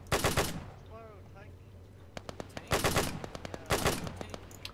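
A Bren machine gun in ARMA 3, set in a WW2 push into Germany in 1945, fires short loud bursts. Single sharp shots and quieter ambient noise fill the gaps, with brief talking early on.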